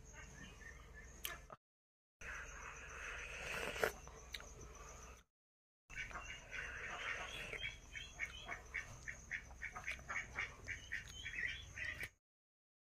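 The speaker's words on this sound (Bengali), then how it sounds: "এদিকে দেখুন কতগুলো হাঁস রয়েছে এদিকে" Several ducks quack repeatedly at a rural home in the Andaman Islands, giving a steady, fairly close chatter of rapid quacks that is broken by a couple of brief gaps.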